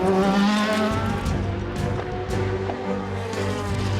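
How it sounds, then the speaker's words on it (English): A race car on a Le Mans qualifying lap runs at speed, a loud close engine note with rising and falling pitch and a brief tire squeal, heard alone. "The 38 car has Harry Tincknell behind the wheel and much more pace coming down"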